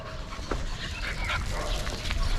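A dog tied on a rope whimpers and gives a few short yips and barks, fairly faint against steady background noise.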